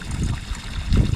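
A boat's bilge pump discharges water, heard as a short, close trickling splash with a low rumble beneath.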